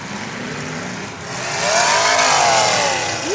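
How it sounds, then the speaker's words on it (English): A demolition derby car engine at a Yuba City, California event revs up, its pitch climbing and swelling louder midway, heard from a moderate distance amid crowd and arena noise. "That 31 car sounds healthy."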